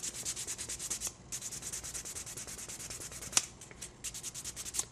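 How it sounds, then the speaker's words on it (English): Quick back-and-forth sanding strokes on a 1:100 scale model kit part, a steady rapid rasping rhythm close by, with a brief pause and a sharp click partway through. "Let me do a little more sanding real quick."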